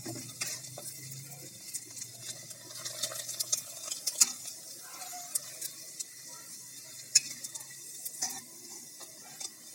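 Rice flour papad fries in oil as a quiet sizzle, with a utensil clinking and scraping against the pan now and then and a few sharper taps.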